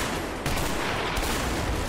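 Heavy gunfire erupts in the video game A Way Out, a loud, continuous barrage of rapid shots and bursts that sounds close and fills the whole stretch without pause.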